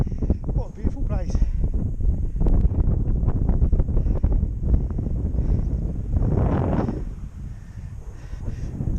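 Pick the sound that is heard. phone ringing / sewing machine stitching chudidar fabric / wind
wind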